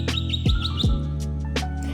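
A bird chirps in a garden, a few quick high tweets over a steady low hum, moderately close with no talking.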